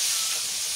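Hot oil spattering in a pan while pangas fish fries until crisp, a dense, continuous hiss and sizzle heard up close and fairly loud for a brief moment.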